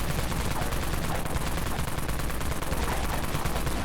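The Wraith Cannon in the shooter game Dead Frontier fires continuously, a dense, rapid stream of loud automatic shots with no pauses.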